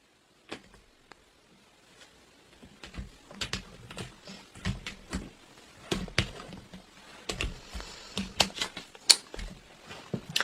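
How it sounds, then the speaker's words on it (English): A deck of tarot cards being cut and handled, heard up close as a series of sharp, irregular snaps and clicks that start sparse and grow quicker and denser, with no talking. "I'm going to cut these because these cards are hard to come out."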